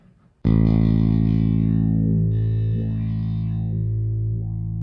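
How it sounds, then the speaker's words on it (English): A thick, distorted bass guitar note through a jazz bass preamp's neck filter holds steady while a sweeping filter repeatedly opens and closes, giving a vocal wah-wah movement to the tone. "And that was the neck filter. Now you can hear it gives you that kind of wah-wah sound"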